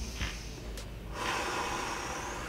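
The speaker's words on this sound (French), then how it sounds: "Tu inspires et tu expires." Deep breathing in and out during a stretching routine, with a close, loud inhale and exhale and a sharp nasal snort-like intake.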